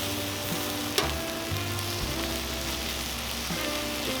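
Precooked pork carnitas sizzle and crackle steadily on a hot Cuisinart 360° griddle, a close, continuous fry with a few sharp spatula scrapes and taps.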